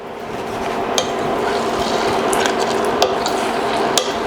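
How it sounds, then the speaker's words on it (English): Homemade three-ingredient caramel sauce being stirred in a pot on the stove, a steady soft bubbling and scraping with a few sharp utensil clicks against the pan, close and continuous with no talking. "we're just going to stir and occasionally stir this"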